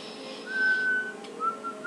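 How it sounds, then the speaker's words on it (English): A thin, airy whistle made by breathing inward through the teeth sounds in two short tones separated by a brief pause, quiet and close. "think of like whistling inward though"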